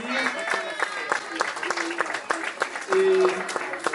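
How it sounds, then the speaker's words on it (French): An audience applauds a school orchestra at its inauguration in Rigny-le-Ferron, France, with steady clapping throughout and bits of tonal sound and voices mixed in. "On peut encore les applaudir."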